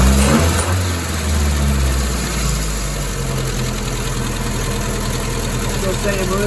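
A 1961 Triumph TR3A engine, freshly tuned after carburetor work, holds a loud, close, steady idle with a continuous rumble and mechanical vibration; a voice speaks over it.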